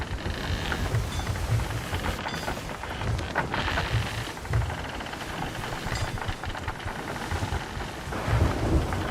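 Thunderstorm with rain in the video game Wild Rose Tall Tale, a dense continuous rush of rain with low rumbling thunder swelling throughout.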